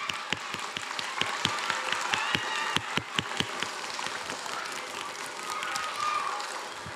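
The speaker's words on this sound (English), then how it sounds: "Round of applause." Applause from a congregation at a Buddhist evening service, with sharp individual claps standing out over a steady patter that stays fairly even throughout.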